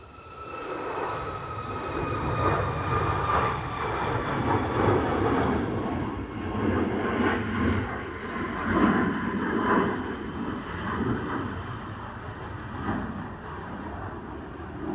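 Jet airliner of TUI taking off from Manchester Airport on a windy morning, a broad continuous engine roar holding steady for the whole stretch, fairly loud and distant-to-mid range with wind, no talk.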